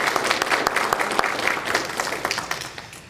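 Audience clapping at a city council candidates' meeting, a dense sustained round of applause from a room of people that holds steady for about three seconds and then begins to taper off.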